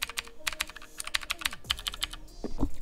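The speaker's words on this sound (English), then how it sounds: "Mechanical keyboard." Mechanical computer keyboard being typed on at a desk, a quick run of crisp clicking keystrokes in uneven bursts, close and clear, with no talk.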